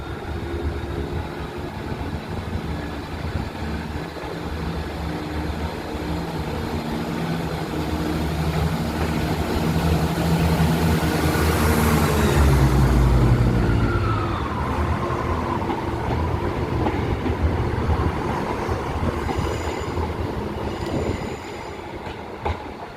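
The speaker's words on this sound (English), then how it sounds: "now departing is the 171 Southern Service to Ashford" A Southern class 171 diesel train to Ashford International pulls out of Eastbourne station. Its engine drone builds, passes close with a pitch drop midway, then fades into the distance, with no talking.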